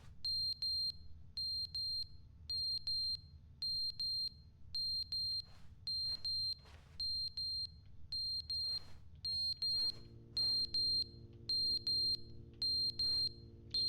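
A smoke detector with a dying battery in The Stanley Parable gives off loud, steady pairs of piercing electronic beeps, while a low steady hum and a few short noise bursts sit underneath.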